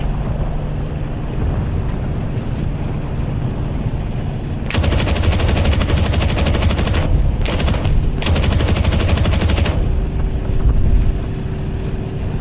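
Bomber's guns firing in the flight combat game Aces of Thunder, bursts of rapid machine-gun fire starting midway over a steady engine drone, with short gaps between bursts.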